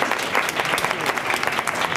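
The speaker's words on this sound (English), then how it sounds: "Let's have a nice round of applause for Mr." A theatre audience gives a special guest a steady round of applause, a thick continuous clatter of hands at even loudness from start to end.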